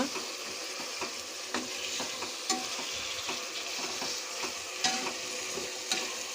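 Tomatoes cooking in a pan for chicken biryani give a steady, close sizzle with soft scraping stirs and small pops throughout, and no voices.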